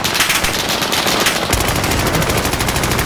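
Rapid machine-gun fire in a video game, loud sustained bursts of closely spaced shots running through the whole stretch, the rhythm shifting partway, with no talk over it.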